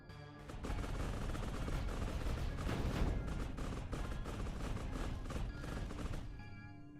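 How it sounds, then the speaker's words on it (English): Flak cannons in the game Mindustry fire in a dense, continuous volley of rapid crackling shots, loud and close, running for several seconds without pause before cutting off, and no one speaks over it. "And flak cannons are up."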